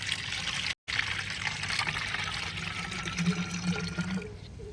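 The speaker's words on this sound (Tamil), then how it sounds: "ஒரு மக்கு எடுத்து இந்த ஸ்ப்ரேயரில் ஊற்றிக்குவோம்" Liquid fertilizer pours steadily into a sprayer with a gurgling, splashing flow, close by, continuing for several seconds.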